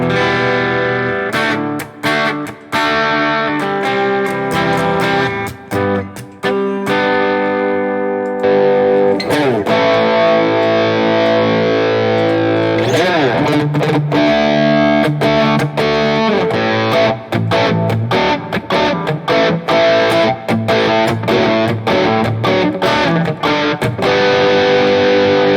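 Heavily distorted electric guitar played through a Fractal FM9 amp modeler with a boost pedal engaged, loud sustained chords and riffs with sharp palm-muted chugs and rhythmic stops, filling the whole stretch with no talking.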